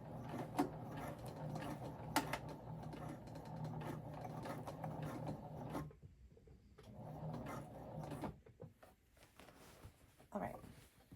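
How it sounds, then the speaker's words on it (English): A sewing machine runs a few reverse stitches through crocheted fabric layers for an upcycled patch, a steady mechanical whir and needle rattle that pauses briefly and then resumes, with faint talk in the background. "I'm just going to drop my needle, and then I have to do a few stitches in reverse."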